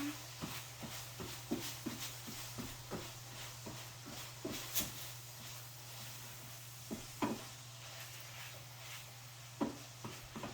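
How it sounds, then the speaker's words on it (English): A spoon scrapes through a sausage mixture sizzling in a pan, giving a repeated rhythmic stirring scrape over a constant low frying hiss and hum. "Let me stir the sausage stuff I'm making."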